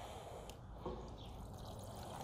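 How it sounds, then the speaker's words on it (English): Water poured from the side into a tube feeding the reservoir of a DIY self-watering planter, a faint steady trickle running throughout. "you'll just pour your water from the side"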